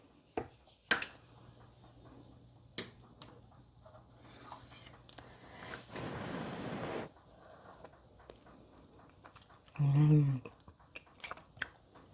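Close mouth sounds of chewing and biting while tasting Jamaican-style hominy corn porridge, scattered soft clicks and one louder burst, with a brief voice sound amid them.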